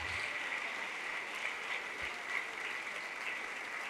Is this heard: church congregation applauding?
yes